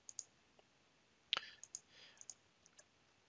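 Soft, close mouse clicks on a copy button, one sharp click followed by a few lighter taps and faint clicks spread across a quiet room.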